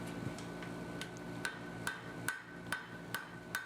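A blacksmith's hammer taps hot steel at the forge while making a hand-forged hay hook, about a dozen light ringing strikes in a steady, quickening rhythm over a low forge hum.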